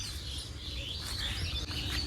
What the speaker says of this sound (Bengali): শুনতে পাচ্ছ পাখিরা কিচিরমিচির করছে